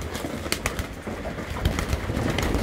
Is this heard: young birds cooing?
yes